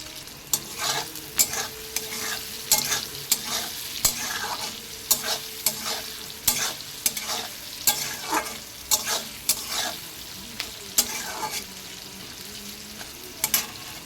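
Onions frying in a pan with a bright, continuous sizzle, broken by regular scraping strokes of a spatula stirring them, close up and with no voices.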